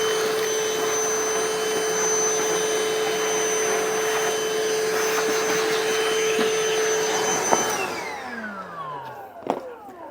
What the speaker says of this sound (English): if only you had a vacuum cleaner, you could tidy all this up